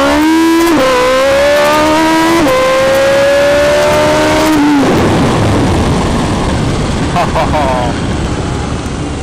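A street-legal drag motorcycle with nitrous armed roars at very high volume, its engine pitch climbing in rapid gear steps before dissolving into a loud, rushing wind-blasted blur.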